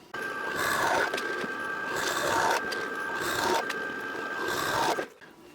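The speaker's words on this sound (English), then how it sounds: "I've got more holes to drill in this" Continuous rasping, grinding noise of a flat drill bit boring holes in wood, with a steady tone, running in long bursts with brief dips, then stopping abruptly near the end.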